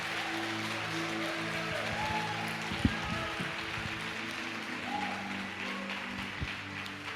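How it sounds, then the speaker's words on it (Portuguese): A church congregation claps along in praise, a steady wash of applause held under sustained organ or keyboard chords at moderate volume, with a few sharper claps standing out. "Quantos podem aplaudir e glorificar o Senhor por isso?"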